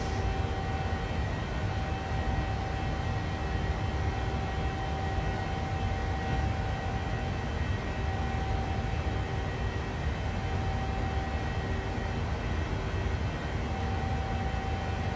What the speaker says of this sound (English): The engine's roaring now.